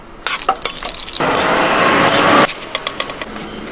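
Cashews and raisins dropped into hot ghee for ghee rice, bursting into a loud steady sizzle for about a second after a few sharp clinks of utensils, with more light clinks and crackles as it settles.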